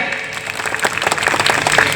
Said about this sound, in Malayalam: പട്ടക്കം പൊട്ടണ പോലെ ഒരു കൈയടിയും കൂടെ.